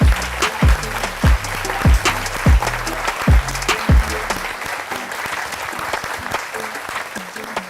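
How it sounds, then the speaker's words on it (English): Audience applause for Nations Cup competitors at a motorsport esports event, a full burst of clapping from a crowd that rolls on steadily under rhythmic thumping music, fading slightly toward the end. "Let's give them a big round of applause."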